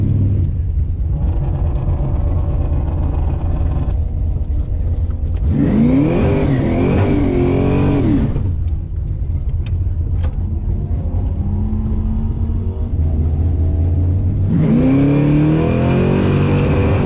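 Drag car launching without two-step on its first pass of the day, the engine roaring and revving through several rising bursts with short lulls, then going flat around 5,500 rpm; loud and close throughout.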